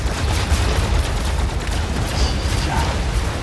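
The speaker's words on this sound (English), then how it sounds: "There's so many just guns, explosions, so much." Planetside 2 battle with dense, continuous gunfire and explosions, loud and constant with layered rapid shots and booms and no breaks.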